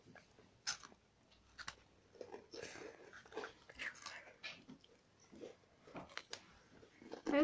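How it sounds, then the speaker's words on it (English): Close, irregular crunching and munching as a pet chews biscuits, with quick bursts of bites and a faint voice underneath. "And she munched and crunched."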